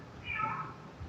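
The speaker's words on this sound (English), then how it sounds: "All of a sudden, I have a cat next to me." A single short cat meow rises and falls at moderate distance over quiet background noise, on its own with no one talking.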